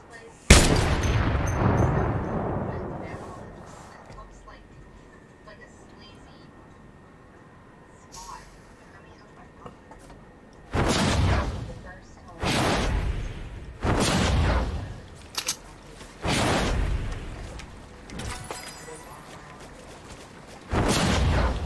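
Gunfire in Fortnite Save the World brings down a gnome riding a balloon bench in Ghost Town: a quiet stretch, then a series of loud, evenly spaced heavy shot bursts about every second and a half, with a voice talking in places.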